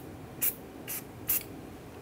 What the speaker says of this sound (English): Just going to spray this with a little anti-seize,